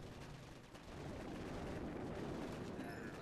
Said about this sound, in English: We'll try and take the rest of these guys down with artillery just to help.